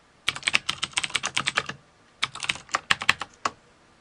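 Rapid bursts of computer keyboard typing during a C programming lesson, two clusters of crisp key clicks separated by a short pause, close and clear with no talking.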